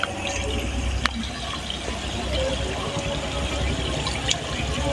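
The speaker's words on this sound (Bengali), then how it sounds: "দেখো তেলের মধ্যে পিঠাগুলো দিয়েছি" Mango pitha cakes fry in hot oil with a steady, moderate sizzle and bubbling, a few sharp pops and crackles standing out over the constant hiss.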